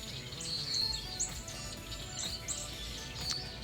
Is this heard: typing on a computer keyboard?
no